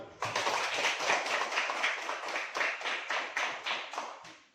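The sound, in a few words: audience clapping for a group presentation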